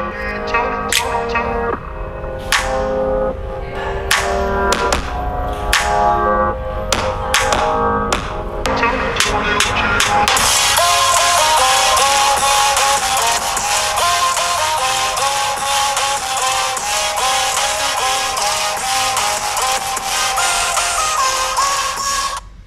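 Music played from the mono bottom speaker of an OPPO Reno 8 5G phone, opening with sharp percussive hits and then building into a dense, full track that stays loud and steady.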